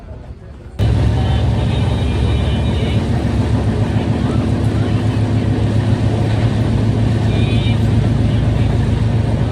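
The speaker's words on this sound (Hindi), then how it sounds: "और ट्रेन हमारी चल रही है धीरे धीरे रफ्तार से।" Gomti Express passenger train running slowly, a steady loud rumble and low hum from inside the coach that sets in after a brief quieter start and continues evenly throughout.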